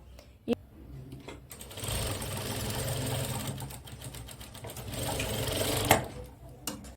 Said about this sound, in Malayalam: അപ്പോൾ നമുക്കിതൊന്ന് സ്റ്റിച്ച് ചെയ്തെടുത്താലോ